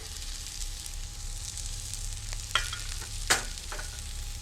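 Onion and chopped garlic sautéing in a pan give a steady, low sizzle, broken by a few soft spoon scrapes and two sharper clinks near the end, with no one speaking.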